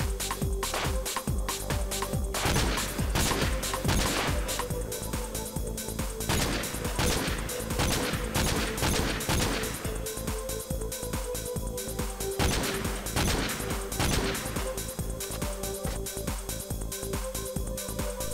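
Sustained MK14 rifle gunfire in the Wii version of Call of Duty Modern Warfare 3, a dense, loud stream of rapid shots and impacts continuing for the full stretch without pause.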